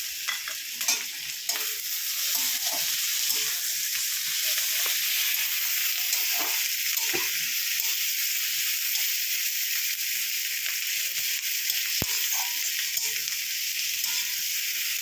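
Tomatoes, green chilies, potatoes and carrots fry for egg khichuri in a hot pan, giving a loud, steady sizzling hiss throughout, with scraping stirs and occasional knocks in the first seconds.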